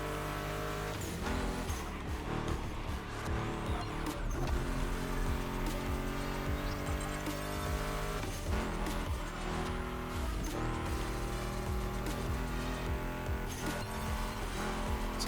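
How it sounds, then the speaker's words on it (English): Turbocharged V8 race car in The Crew Motorfest, engine roaring and revving continuously with repeated tire squeals and skids, loud and steady throughout. "It's a turbocharged V8."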